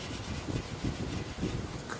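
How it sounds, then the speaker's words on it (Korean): A toothbrush scrubs a 2002 Hyundai Avante XD car muffler during rust cleanup, giving a steady close rubbing rasp in repeated strokes throughout, with no talking. "사포질 끝나면 칫솔질"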